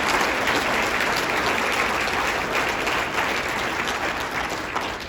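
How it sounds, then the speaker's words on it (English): A large audience at a city's State of the City address applauds city councillors with sustained, dense clapping, loud and full throughout before easing off slightly at the end. "Let's give them a big round of applause."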